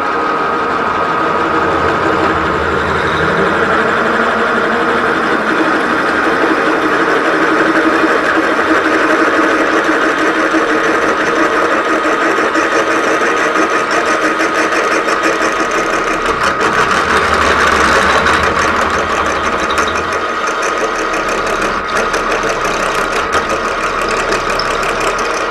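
A 4x6 band saw with a hydraulic down feed cutting at about 345 RPM, giving a continuous loud mechanical whir and rumble that holds steady throughout with slight swells, no voices.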